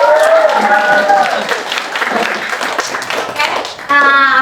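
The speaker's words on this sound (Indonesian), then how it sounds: "boleh kasih tepuk tangan sekali." An audience claps at the close of a school leadership talk show, a brisk round of applause from a small crowd. Voices are heard at the start and end, with the loudest clapping between them.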